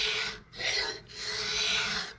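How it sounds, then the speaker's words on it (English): A hand scraper shapes the wooden bridge of an archtop guitar, giving three close, rasping strokes, the last one long and drawn out, with brief pauses between them. "with a scraper, I'm going to approach these outside edges"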